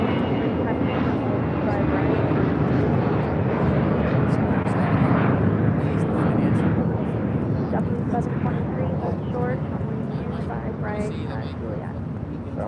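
An Air Sprint airliner takes off from runway 25 right at LAX, a loud, sustained jet engine roar that swells and holds, with radio chatter and voices running over it throughout.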